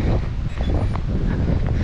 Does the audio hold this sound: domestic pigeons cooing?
no